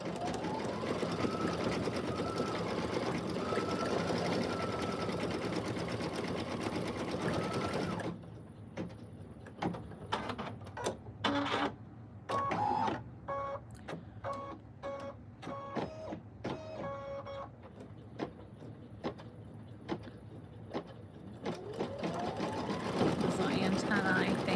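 Embroidery sewing machine stitching the stinger onto a small bee design: a steady fast whirring stitch at first, then a stretch of stop-start bursts and clicks, then steady running again, close and clear.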